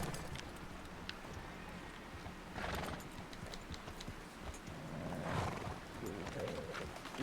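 A horse in the Red Dead Redemption 2 game clip-clops along at a quick pace and gives loud whinnies, with hoofbeats rolling steadily throughout.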